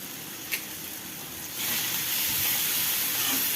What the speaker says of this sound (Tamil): மசாலா நல்லா பச்சை வாசனை போகிற வரையும் வதக்கிக்கலாம்